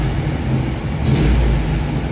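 A 1979 Alfa Romeo Alfetta's engine runs at a steady, low rumbling idle, heard from inside the car, with no talking.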